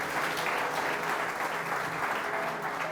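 A church congregation breaks into sustained applause, a thick continuous patter of many hands clapping at an even loudness throughout.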